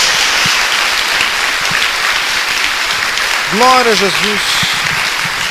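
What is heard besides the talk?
congregation applauding in church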